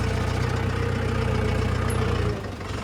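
A tractor brought straight onto a maize field idles with a steady low rumble that holds close and constant, then dips and softens near the end.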